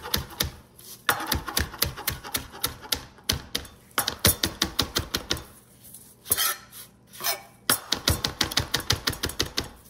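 A knife rough-chops fresh cilantro on a cutting board in rapid rhythmic bursts of crisp taps, pausing briefly between runs, close and clear with no talking.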